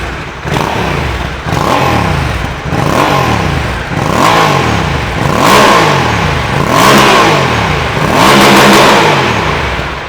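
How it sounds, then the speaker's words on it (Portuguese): A 2024 Honda Africa Twin 1100 motorcycle with DCT gearbox, heard close to the exhaust, revs repeatedly in a steady rhythm of six or seven loud throttle blips that rise and fall, the engine idling between them. "Aquele ronco bem característico de motores Honda"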